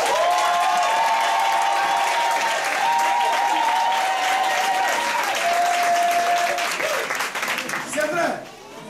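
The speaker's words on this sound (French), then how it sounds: "Ça mérite des acclamations, 4 terrains." Applause and cheering from a congregation at a church harvest festival, a dense sustained clatter of clapping with a steady tone running beneath, fading toward the end.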